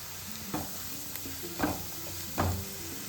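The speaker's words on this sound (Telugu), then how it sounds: "కొంచెం కరివేపాకు వేసుకొని చిన్న ఫ్లేమ్లో వేగాలండి." Curry leaves, green chillies and spices fry in a pan on a low flame for potato kurma, a soft steady sizzle broken by three distinct scraping stirs, close and quiet with no talk.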